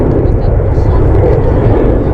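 At Amsterdam Schiphol an airliner goes around, its engines a steady, close rumbling roar heard under a person's speech for the brief moment.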